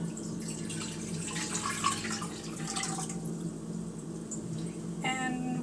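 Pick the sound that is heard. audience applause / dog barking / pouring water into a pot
pouring water into a pot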